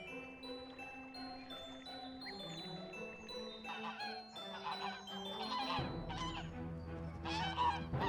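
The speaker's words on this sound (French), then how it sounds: "Le vacarme y était effroyable, parce que certains volatiles se battaient entre eux." Geese and other fowl honking and squabbling in a noisy duck yard, a chaotic overlapping chorus of honks and cries that grows louder and denser toward the end.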